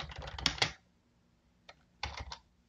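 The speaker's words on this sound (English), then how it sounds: "So you type something in." Keys clatter on a computer keyboard while a message is typed into a chat app, two short bursts of quick clicking separated by a quiet pause, close and alone.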